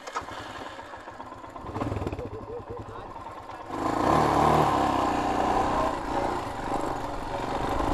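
A Royal Enfield Himalayan motorcycle engine rides off-road on a dirt trail, a steady mid-level drone that grows louder and rougher partway through, with voices talking over it.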